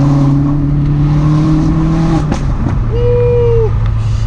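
Vauxhall Astra VXR engine idling high and revving on a cold start, a loud steady drone with a brief rise and a short second rev, heard close and alone.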